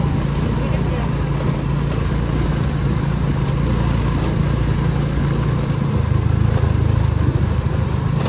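A small boat's outboard motor runs steadily with a constant low droning hum, loud and close throughout, while people talk over it.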